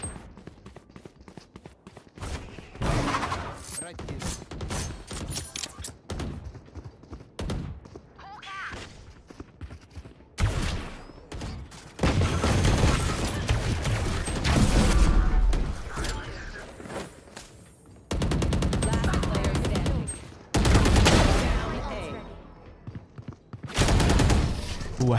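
Gunfire in the video game Valorant, bursts of rapid shots and single cracks mixed with mechanical clicks and footsteps, loud and close, with a player talking over parts of the action.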